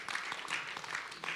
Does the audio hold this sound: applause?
yes